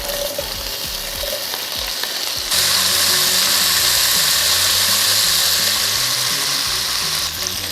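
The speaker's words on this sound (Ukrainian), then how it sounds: "мінімальна кількість соняшникової олії і відправляю на неї копчену грудинку" Smoked pork belly fries in a little sunflower oil in a pan with a loud, close, crackling sizzle. The sizzle jumps to a denser, stronger hiss partway through and then holds steady.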